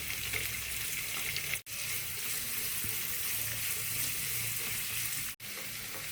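Garlic and spices frying in hot oil for a curry tempering, with curry leaves, ginger, onion, pandan and cinnamon in the pan for an egg curry, give a steady close sizzle that breaks off briefly twice.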